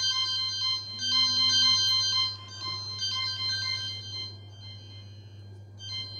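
A phone ringtone plays a bright, repeating electronic melody of high tones for several seconds over a steady low hum, with no talking.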